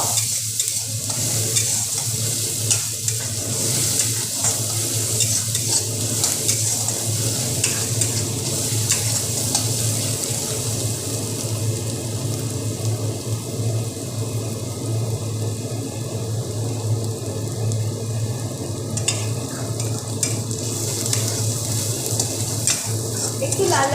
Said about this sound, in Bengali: ভালো করে পেঁয়াজটাকে আমি ভাজা করে নিব